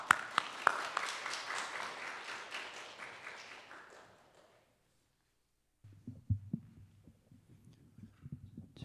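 A church congregation applauds to welcome a pastor to the pulpit, dense clapping filling the first four seconds before fading out, followed after a pause by low, muffled rumbling sounds.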